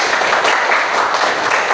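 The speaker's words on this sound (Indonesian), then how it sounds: "Tepuk tangan untuk semuanya." Students in a classroom microteaching session clap together in a steady, dense burst of applause that fills the short moment at close range.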